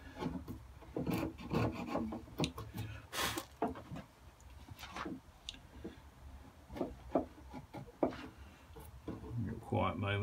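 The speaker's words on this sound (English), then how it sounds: "with chopping hinges out, you got to just try not to take it easy" A chisel chops and pares hinge recesses into a wooden narrowboat door, making short scraping and rasping strokes in irregular bursts, close and fairly quiet, with occasional soft taps and pauses.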